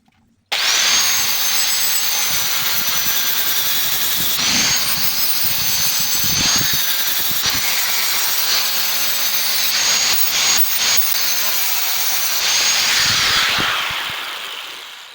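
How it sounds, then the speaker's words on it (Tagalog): Continuous loud abrasive grinding of a power sander against the edge of a metal boat propeller, steady and close for the whole stretch, with no talking. "magliha na tayo dito sa gilid"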